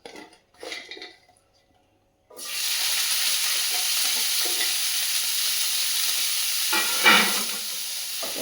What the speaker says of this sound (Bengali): এটা একটুখানি নেড়ে নেব আমি